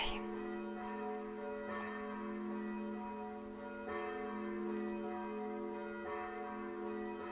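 Church bells ring with long, sustained overlapping tones, struck again every couple of seconds, heard from a distance and fairly faint.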